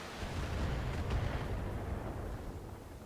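Mech in Battletech firing its weapons, heard as a deep, booming blast that swells and then rolls away into a low rumble over a few seconds.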